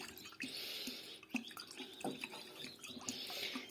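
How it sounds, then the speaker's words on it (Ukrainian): Small amounts of water trickle and drip into a spoon holding crushed pharmacy tablets, faint irregular splashes and drips in a quiet room. "І заливаємо невеликою кількістю води."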